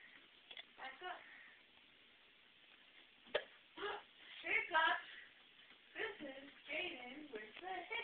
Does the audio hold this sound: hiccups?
yes